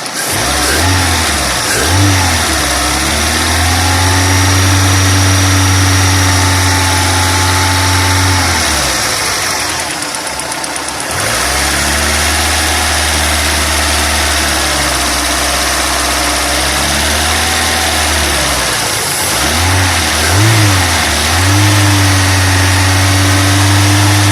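Car engine running on petrol after the LPG supply is shut off, a loud close drone that idles and rises into repeated revs, with a brief dip midway.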